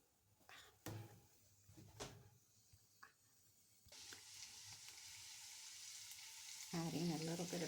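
Onions hitting hot oil in a pan for calabacitas, a few clunks and knocks before a sudden, steady sizzle rises and continues, with a voice speaking near the end.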